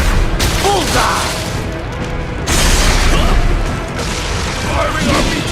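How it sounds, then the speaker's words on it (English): RPG fire in Metal Gear Rising: Revengeance, a string of loud booming blasts and bursts that swell and fade over a dense mechanical battle din, with voices mixed in. "Firing RPG!"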